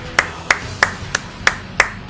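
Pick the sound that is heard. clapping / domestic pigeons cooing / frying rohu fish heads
clapping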